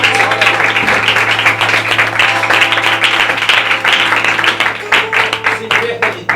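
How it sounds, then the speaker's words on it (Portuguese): Church congregation at a Pentecostal service clapping steadily for several seconds, dense and sustained, with a low hum and some voices mixed in. "Dê uma salva de palmas para Ele."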